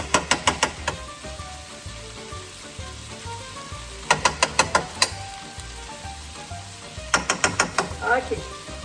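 Cauliflower rice and Italian sausage casserole sizzles steadily in the pan, broken by three close bursts of quick, rattling stir-and-scrape strokes.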